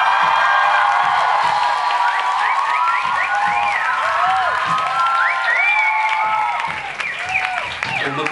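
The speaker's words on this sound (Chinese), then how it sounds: "请为这座森林里面的小动物掌声加尖叫。" An audience at a live performance claps and cheers loudly, a dense continuous wash of applause threaded with shrill rising and falling whoops and screams that eases slightly toward the end.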